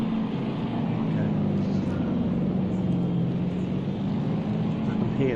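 Race car engines in Project Cars 2 hold a steady, continuous drone that stays loud and unbroken throughout, as though from a car running nearby within a racing pack.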